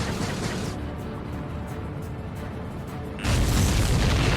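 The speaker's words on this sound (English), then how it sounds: "Did you see that explosion? Looks like that's one of them down." A large in-flight explosion of an enemy aircraft in the Ace Combat 7 combat flight game: a steady rumbling roar swells into a loud, broadband booming burst near the end, with no voices.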